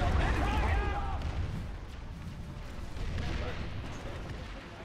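A grenade blast in the PC shooter Planetside 2 opens with a loud, low boom, then gives way to a rumbling wash of distant battlefield gunfire. A voice talks over the noise.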